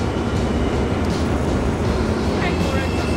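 A train rolls into Bangkok's Hua Lamphong railway station, a steady loud rumble of wheels and carriages filling the platform, with a brief squeal near the end and a voice speaking over it.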